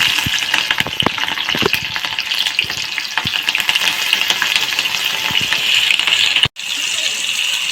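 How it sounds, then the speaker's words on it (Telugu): Dried red chillies go into hot oil in a kadai for tempering, giving a steady loud sizzle and crackle with occasional clinks of a utensil, continuous throughout with no voices. "తాలింపుకు మిరపకాయలు వేసుకుంటున్నాం."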